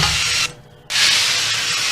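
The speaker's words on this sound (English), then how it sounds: "We are going to spray the grill grates so that our chicken does not stick." A steady, loud aerosol cooking spray hisses onto grill grates for about half a second, pauses briefly, then resumes in a longer continuous burst.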